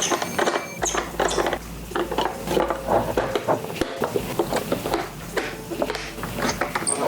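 Plastic Tech Deck Shredline obstacle pieces being handled and snapped into their holes, a busy run of close clicks, rattles and scrapes continuing throughout with no talking.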